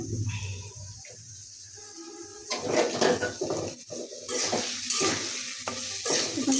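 Spices sizzle in hot oil in a pan while being stirred, with soft scraping and frying crackle that swells and fades close by.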